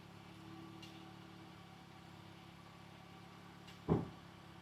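A Mini Cooper engine idles with a low, faint, steady hum, left running in a garage while its brakes are checked, with one short thump near the end.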